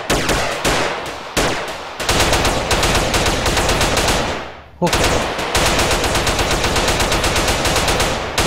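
Rapid bursts of automatic video-game gunfire rattle loudly and almost continuously during a police chase, broken by a couple of brief pauses.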